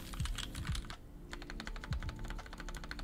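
Typing on a Daisy 40 mechanical keyboard, a steady run of quick, crisp keystrokes close up with a few heavier thumps, with no talk over it.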